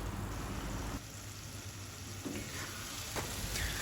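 Steady hiss and crackle of vegetables sautéing in oil in a hot pan for sundakkai vathal kuzhambu, with occasional soft scraping as it is stirred, close by.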